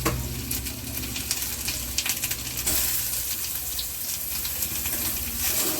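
Grated ginger frying in a pan with cumin seeds as a vegetarian green papaya dish is cooked: loud, constant crackling sizzle throughout, with brief scraping touches and no talking.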